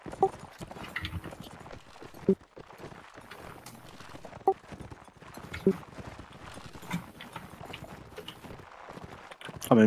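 Steady clip-clop of horse hooves trotting along in a multiplayer video game battle, with voices talking over the top throughout.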